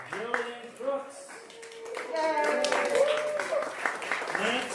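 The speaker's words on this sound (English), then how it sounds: "Yeah, we're allowed to applaud." A church congregation applauds its vestry candidates during a morning forum, with scattered clapping running under voices talking nearby.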